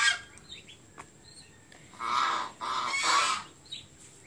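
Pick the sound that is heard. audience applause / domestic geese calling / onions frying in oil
domestic geese calling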